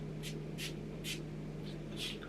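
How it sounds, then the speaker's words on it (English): NYX matte setting spray mists onto a face in four short hissing bursts, evenly spaced and close, over a faint steady room hum. "I like to drench the face in setting. Oh, by the way, this is NYX matte setting spray."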